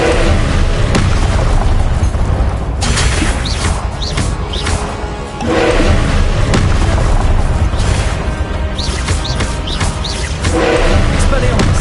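A Confringo blast spell in the Hogwarts Legacy video game lets off repeated heavy booms and crashes over continuous loud combat noise, with voices calling out.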